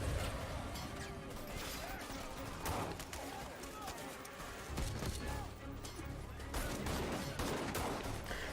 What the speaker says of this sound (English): Ooh. Explosions.